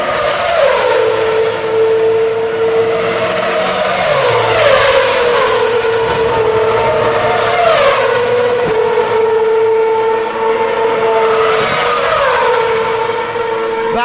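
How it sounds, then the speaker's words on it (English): A Formula 1 car powers through Eau Rouge, its high-pitched engine screaming loud and close in a continuous wail, with repeated rising and falling sweeps as it climbs and gears change. "if you want to hear the sound of an F1 car through Eau Rouge,"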